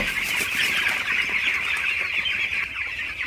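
Broiler chicks about fifteen days old on a poultry farm cluck and cheep continuously as a dense flock, a steady close chorus with no talking.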